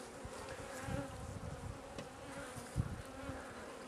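A dense, continuous buzz of many honey bees fills the air around an opened hive while two colonies are joined, steady and close with small swells, no voices.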